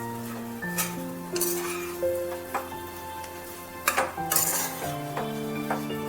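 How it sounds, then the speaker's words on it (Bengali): Fish roe cooked with chopped green chilli and black pepper, stirred in a metal pan. A spatula clinks and scrapes repeatedly over a steady low hum and faint frying, close and clear with no voices. "কাঁচা লঙ্কা কুচি দিয়ে, গোলমরিচ দিয়ে ভালোভাবে একটু নাড়াচাড়া করতে হবে।"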